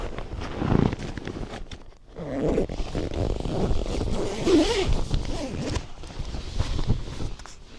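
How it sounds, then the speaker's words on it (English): Zipping up the mesh of a bivy bag while wild camping, several close rasping zipper pulls in bursts with rustling fabric and shifting movement between them. "And then zip my mesh up."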